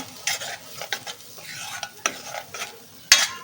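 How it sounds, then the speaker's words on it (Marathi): A pan of red amaranth greens and black pea paste being sautéed, with soft sizzling and repeated scraping stirs of a spatula, one sharper clack near the end, close and quiet with no voices. "ते आता ह्याच्यात मिक्स करून घेऊ हे छान परतून घ्यायचं"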